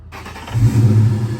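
A Cobra car's engine runs and revs in a low, steady rumble as the clutch is let out, swelling after a short start and holding loud and close for about a second.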